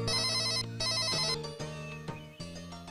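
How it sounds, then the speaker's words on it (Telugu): A mobile phone ringtone plays a loud, bright electronic melody of repeated tonal phrases, heard clearly with no talking, in a scene from a Telugu action film. "అమ్మా అన్నయ్య ఫోన్ చేసినట్టున్నాడే."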